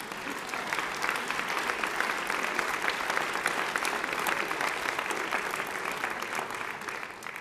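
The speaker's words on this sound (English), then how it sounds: "That's a clapping thing." Large audience clapping through a governor's State of the State address in New Mexico, a steady, dense wash of applause that holds evenly before tapering slightly at the end.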